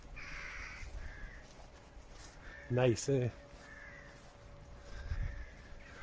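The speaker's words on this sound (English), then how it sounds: "Hopefully you can hear the birds." Crows caw twice in close succession, loud and near, against an outdoor background at the ruins of Balvenie Castle in the Scottish Highlands, with someone speaking briefly nearby.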